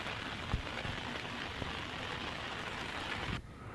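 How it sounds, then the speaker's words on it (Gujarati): Heavy monsoon rain pours down in Keshod, Junagadh, a steady dense hiss with a few thuds, loud and constant before dropping sharply near the end. "જૂનાગઢના કેશોદમાં પણ ધોધમાર વરસાદ વરસ્યો"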